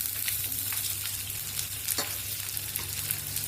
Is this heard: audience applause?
no